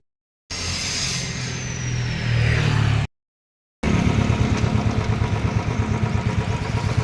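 A motorcycle engine runs loud and close, first as a steady hum that swells slightly, then after a short silent gap as a rapid, pulsing idle thump.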